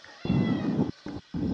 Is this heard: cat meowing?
yes